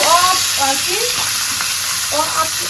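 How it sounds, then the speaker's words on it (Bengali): Spices frying in a pan for a fish curry, a loud steady sizzle with stirring scrapes, while faint voices murmur in the background. "এখানে আমার মশলা কষানো হচ্ছে, ভালো করে হোক কষানো।"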